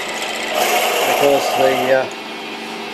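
A drill bores holes in a machined turbo pulley spacer, a loud steady grinding whine with shifting pitch that eases off toward the end, someone speaking over it.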